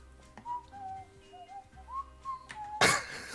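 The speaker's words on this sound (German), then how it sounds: "Irgendjemand pfeift hier." A person whistles a wandering tune of short rising and falling notes, fairly close and moderately loud, ending in a sudden burst of broadband noise.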